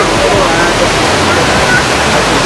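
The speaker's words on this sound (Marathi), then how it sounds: "मोठा इंडोर वॉटरफॉल बोलू शकता की वरून पाणी पडतं हे." A large indoor waterfall at Jewel Changi Airport in Singapore pours down with a steady, loud, continuous roar of rushing, splashing water that fills the space without letup.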